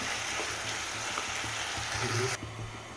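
Vegetables for a vegetable kurma cook in a pan, giving a steady close sizzle of frying with faint stirring, which drops away briefly near the end.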